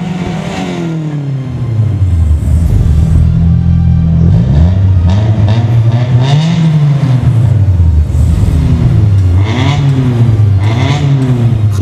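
A Honda Prelude with an extra ČZ motorcycle muffler fitted to its exhaust revs hard and close, its rough engine note repeatedly swelling and dropping over several throttle blips.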